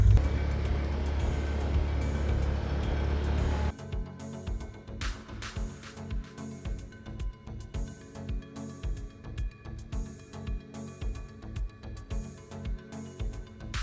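A side-by-side off-road vehicle drives through backcountry in British Columbia, its engine droning loud and steady at first, then shifting to a bumpy, rhythmic pulsing as it rolls over rough ground.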